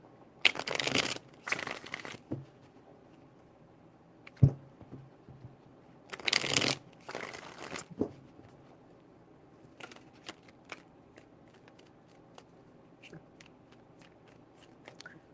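Three bursts of riffle-shuffled playing cards, each a crisp rapid fluttering close to the mic, separated by quiet stretches with a few small taps and handling clicks.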